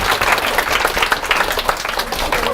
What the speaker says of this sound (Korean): 오케이, 고맙습니다. 박수.